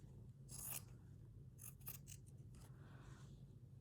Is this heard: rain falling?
no